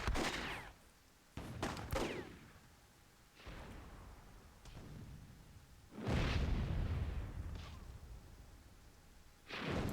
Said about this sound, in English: somebody blew me up right there. Maybe it was my own cannon.